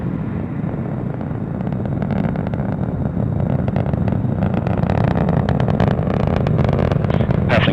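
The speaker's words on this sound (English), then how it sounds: "Mach 1, Atlas V is now supersonic." An Atlas V rocket powered by its RD-180 engine roars in supersonic flight, a continuous broadband rumble with crackling texture that grows gradually louder over several seconds.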